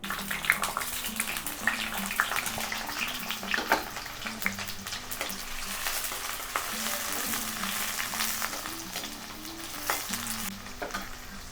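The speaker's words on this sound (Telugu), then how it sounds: "ఏందాక తరిగి పెట్టుకున్న ఉల్లిగడ్డ, టమాటా, పచ్చిమిరపకాయలు వేసుకుందాం" Chopped onion, tomato and green chillies sizzling in hot oil, a loud continuous close frying hiss with scattered crackles and stirring clatter, no talking.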